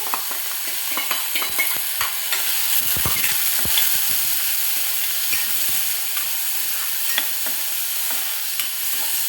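Chana dal is tipped into a sizzling tempering of cumin, curry leaves and asafoetida and stirred for a tondli chana dal bhaji: a continuous close frying hiss with scraping stir sounds and occasional crackles.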